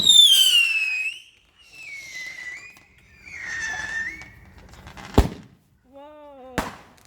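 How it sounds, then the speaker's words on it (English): Bonfire night fireworks: whistling rockets rise in several long squealing streaks, then two sharp loud bangs crack nearby, with faint voices around. "Second firework."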